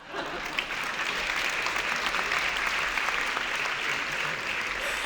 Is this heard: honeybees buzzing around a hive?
no